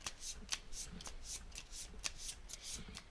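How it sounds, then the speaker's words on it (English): Cards being shuffled close by, a quick run of crisp riffling flutters and soft slaps repeating steadily for a few seconds. "Alright, so we'll shuffle this deck."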